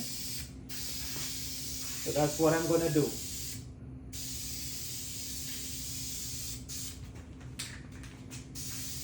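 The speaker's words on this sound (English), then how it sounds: "spray paint it black for him." Steady hiss of an aerosol spray can spraying black paint on a toilet for several seconds, close by, with a short spoken phrase partway through.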